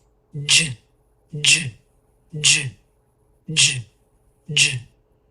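A voice mimics a slower jump rope with five regularly spaced breathy bursts about a second apart, each starting with a short voiced tone, close-up with quiet pauses between them.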